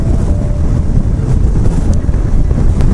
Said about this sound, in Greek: Πολύ δυνατό αέρα.